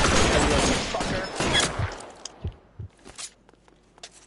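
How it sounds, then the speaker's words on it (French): Machine gun fire in the video game L.A. Noire, a loud sustained burst of rapid shots that cuts off into scattered footsteps and thuds. "Oh, c'est une mitrailleuse."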